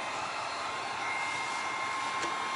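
A heat tool blows steadily on paper book pages being dried for a spring bunny craft, a continuous close airy whoosh with no break and no talking.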